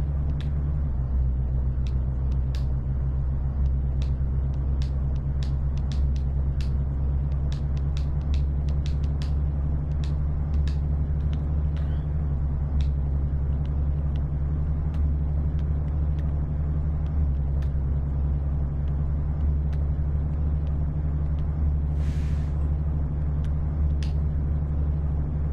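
Car driving in the horror game Late Night Snack Attack: a steady, low engine rumble that drones continuously throughout, with faint clicks and ticks scattered above it.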